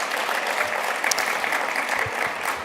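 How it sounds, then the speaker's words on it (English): Audience applause at a women's hall of fame luncheon, a steady dense patter of many hands clapping that holds evenly throughout with no voices. "You can clap."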